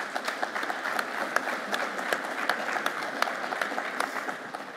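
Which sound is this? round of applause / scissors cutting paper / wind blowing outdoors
round of applause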